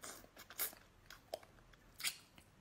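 Soft-shell turtle head is chewed close to the mic in a quiet room, giving faint, irregular crunches and bites spread across a couple of seconds with no talking.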